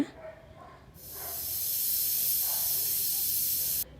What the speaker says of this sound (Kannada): ಈಗ 4 ವಿಸಲ್ ಆಯಿತು, ಬೇಳೆ ಬೆಂದಿದೆ.